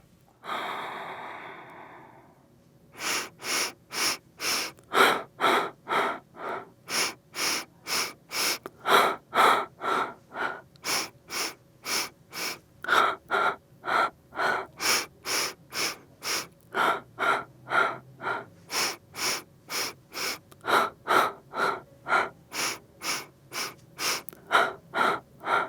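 Human breathing, deep and rhythmic, close to the microphone, with a long initial exhale followed by dozens of quick, regular in-and-out breaths, each a short airy rush, steady and unbroken by talk.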